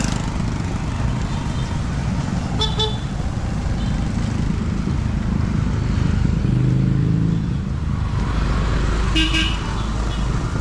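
Cars and motorcycles pass along a road in a steady wash of traffic noise, with a couple of faint horn toots and engine hum rising and falling in the background.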